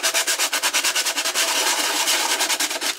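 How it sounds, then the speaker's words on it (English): Fine sandpaper rubs lightly over the outside edges of a dry handmade vase, a close, steady run of quick rhythmic scratchy strokes, each a short bright rasp, with no talking. "just take some fine sandpaper, and very lightly I'm going to just rub over the outside edges"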